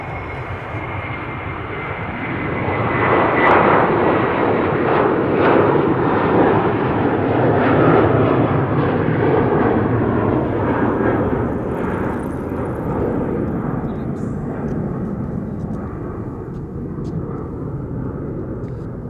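A Turkish Airlines jet departing Amsterdam Schiphol Airport, its engines building to a loud sustained roar that slowly fades as it climbs away.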